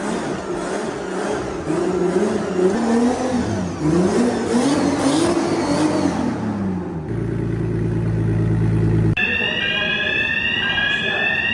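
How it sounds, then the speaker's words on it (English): A garage alarm set off by heavy smoke wails over a turbocharged BMW E28 drift car's engine. A sharp mechanical buzz breaks in partway through, and a high warbling siren tone stands out near the end. "We have the alarm as well because a lot of smoke."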